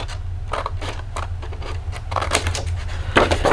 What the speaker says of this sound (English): And then we're going to cut this piece off completely.